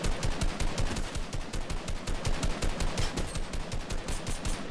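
Rapid automatic gunfire in Fortnite, a dense unbroken burst of evenly spaced shots rattling on for several seconds, loud and close with no talking over it.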